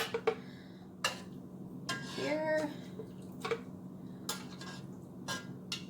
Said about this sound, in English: Just going to scoop out all the vegetables